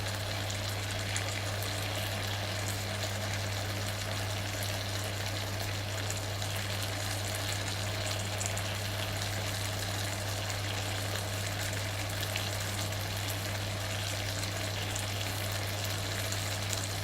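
Continuous steady sizzle of food frying in a hot pan, a dense even crackle with a low hum underneath, fairly quiet and unbroken throughout with no talk.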